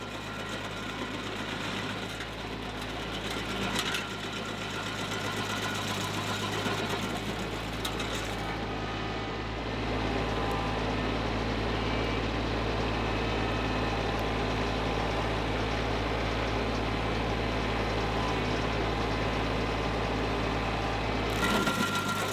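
A tractor-driven stump grinder wheel chews slowly and steadily through a soft stump, a continuous loud engine drone with rough grinding texture running throughout, unbroken by talk.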